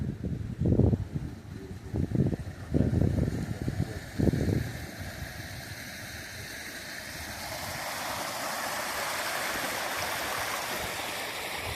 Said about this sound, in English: there's water going through there